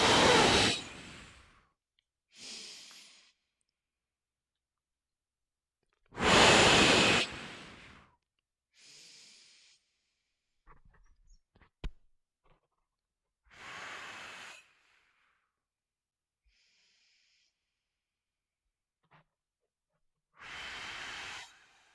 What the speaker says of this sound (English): Inhaling for 6. Forcible exhale.